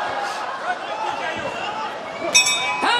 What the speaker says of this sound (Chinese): 好，铃声响起，第三回合救命的铃声